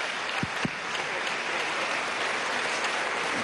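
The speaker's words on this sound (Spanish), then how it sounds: "Vamos a recibir con un fuerte aplauso al profesor Germán Escarrá." Audience applauding Professor Germán Escarrá at a Sunday broadcast event in the Caracas Metro, a steady dense wash of clapping from a crowd, with a couple of brief low thumps near the start.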